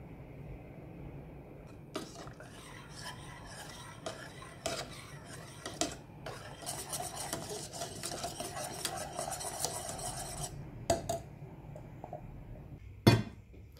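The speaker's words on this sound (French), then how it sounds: "Je verse maintenant le beurre, puis je mets sur petit feu jusqu'à ébullition sans arrêter de remuer" A spoon stirs steadily through butter and lemon cream in a saucepan over low heat, making a soft, continuous scraping against the metal, with a few louder knocks near the end.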